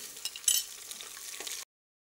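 Garlic-ginger paste crushed with green chillies hits a pan of lightly browned onions, giving a close, steady hiss of frying with a brief louder burst early on before cutting off abruptly.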